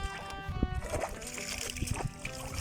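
Splashes and sloshing water as people jump into water, with a few brief louder splashes among continuous water noise and voices talking nearby.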